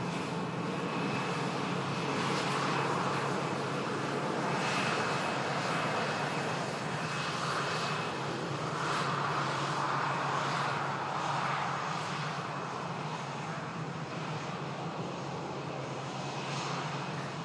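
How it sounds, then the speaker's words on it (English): A KLM airliner taxiing out at Manchester Airport makes a continuous, loud engine drone with a faint whine on top, swelling slightly now and then and heard alone. "KLM taxis out"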